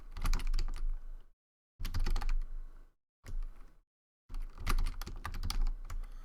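Rapid clicking keystrokes as a password is typed on a computer keyboard, four bursts of typing separated by short silent pauses, close and clear.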